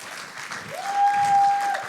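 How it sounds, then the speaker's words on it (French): A church congregation at Église Le Carrefour applauds pastors Caroline and Pascal Bergeron for five years of service; moderate, steady clapping fills the room, with a sustained whistle-like tone running through the second half. "Félicitations nos pasteurs, oui, applaudissez-les"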